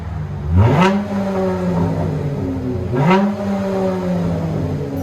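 Two quick throttle blips from a 2013 Chrysler 300 V6 running a Flowmaster Super 10 exhaust with rear delete, each one a deep rising roar that falls back to a steady rumbling idle, heard loud and close.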